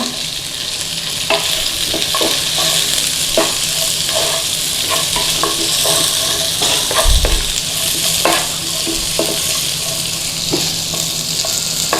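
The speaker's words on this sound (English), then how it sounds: "Now this is a gentle stir fry." Chillies and onion are stir-fried for chicken 65, giving a steady, bright sizzle with repeated light scraping and tapping of the stirring utensil throughout.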